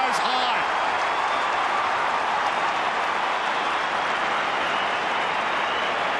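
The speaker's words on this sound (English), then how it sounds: "And the crowd goes high." Stadium crowd at an Australian football match between St Kilda and West Coast roaring in a steady, dense wash of cheering, loud and continuous, with a brief whistle-like tone at the start.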